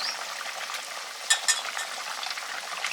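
Rohu fish curry broth boiling in a pot, a steady bubbling and sizzling texture with a couple of sharper pops near the middle, close and moderately loud.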